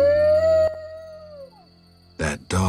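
A dog in The Witcher video game lets out a long, clear howl that fades away, followed by a brief pause and then someone speaking.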